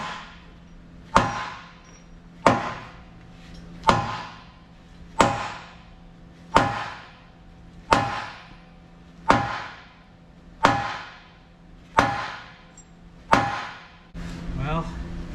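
A sledgehammer strikes a stuck, rusted ripper pin on a Caterpillar motor grader, about ten loud metallic blows at a steady rhythm of roughly one every 1.3 seconds, close and ringing.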